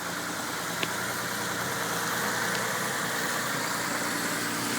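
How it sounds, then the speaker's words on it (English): Twin-turbo Mitsubishi 3000GT VR4 engine idling on a cold start with a knocking fault, a steady close-up mechanical rumble with a dense, even rattle and no voices. "For some reason on cold starts it's knocking and I don't know why."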